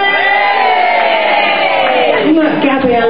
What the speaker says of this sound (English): can we please give Gabby a big get well cheer?